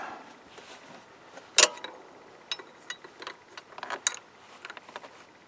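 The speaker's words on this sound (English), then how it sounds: "It's a tight fit, so I don't think a socket's gonna fit down there. So we'll just use a wrench." Wrench turning bolts on the idler pulley of a Jeep Wrangler YJ, working in a tight engine bay: scattered faint metallic clicks and ratcheting ticks, with one sharper clank, close by and irregular, with no talk.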